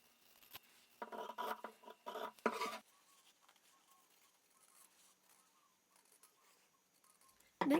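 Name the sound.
cutting out fabric heart shapes for placemat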